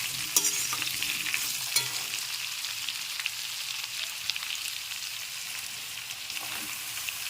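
Eggplant pieces and spinach leaves stir-frying in a pan for a Bengali palong shak ghonto with prawns, giving a steady close sizzle with scraping spoon clicks throughout.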